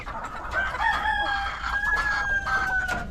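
A rooster crows with long, wavering calls while hens, including a Decaled White laying its first egg, cluck nearby, steady and moderately loud against a low background hum.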